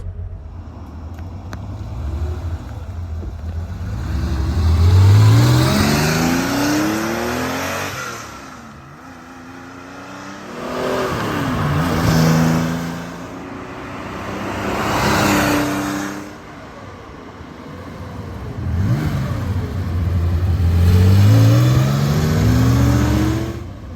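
A 1975 Porsche 911 2.7 Carrera MFI engine revs and roars past several times, each pass swelling louder and then fading, with rising pitch sweeps as it accelerates.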